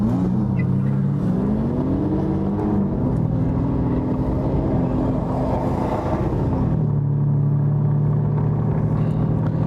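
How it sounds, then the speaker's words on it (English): Aston Martin DBS engine while driving, a steady loud rumble with rising and falling tones as the revs shift, heard from inside the car with no talking. "This is the first time I'm driving an Aston Martin."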